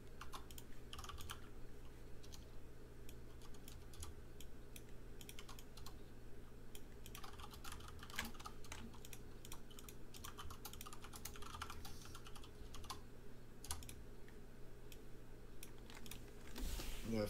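Steady, quiet typing on a computer keyboard runs throughout, a dense stream of soft key clicks under a low background hum, with a few louder taps near the end.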